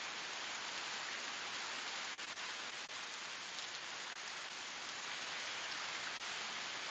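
Downpour pounding the tops of tents overnight, a thick continuous hiss of rain close by, steady throughout with a few faint sharp ticks and no speech.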